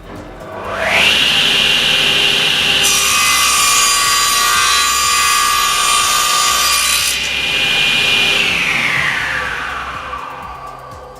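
A SIP 01332 cast iron table saw cuts through wood, the motor whine climbing as the blade bites in, a loud sustained high-pitched cutting roar for several seconds, then winding down, close and alone.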